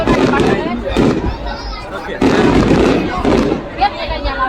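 Fireworks at the Đền Đô temple festival in Vietnam, with repeated booming bursts and crackling pops under close, ongoing crowd chatter and people talking.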